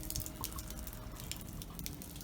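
Water drips and trickles from a leaking steam boiler, a faint, close, continuous wet patter with small splashy ticks over a low background hum and no voices.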